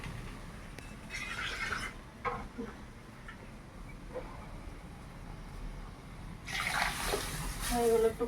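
Boiled water pours into a pot of lentil dal, a soft splashing rush that swells near the end after quieter kitchen noise, close and moderately loud.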